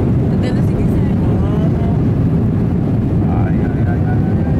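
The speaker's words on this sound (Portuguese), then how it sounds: "Mano, o avião tá dançando." Steady, heavy airplane cabin roar on a cheaper flight through turbulence, a dense low rumble filling the whole stretch without pause, with faint voices beneath it.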